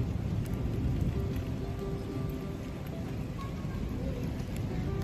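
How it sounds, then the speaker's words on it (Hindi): Rain falls steadily onto a rooftop parapet, a continuous dense patter that holds at an even, moderate level with no breaks and no voices. "ये देखो बारिश बनेरिया पे पै रही है"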